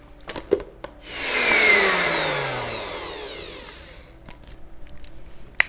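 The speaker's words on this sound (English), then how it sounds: "we're just going to blend this up until there aren't any little chunks of date left" A NutriBullet blender whirs through dates to make a smooth sauce, its motor rising into a loud, steady whine before gradually winding down, with brief knocks before and after.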